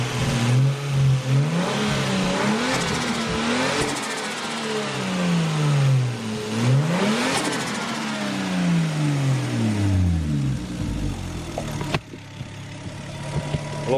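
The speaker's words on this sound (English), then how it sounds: "It's idling now, it seems to be sound." A turbocharged Lexus engine, recently repaired after an injector misfire, idles and then revs up and down repeatedly, rising and falling pitch sweeps with a steady close running sound throughout and no talk.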